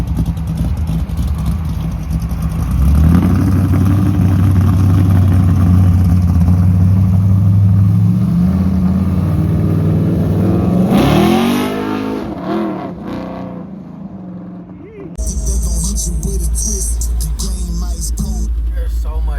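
Loud Chevrolet El Camino engine revs hard through several rising pulls, then drops away and settles to a rough idle, heard up close with talk in the background.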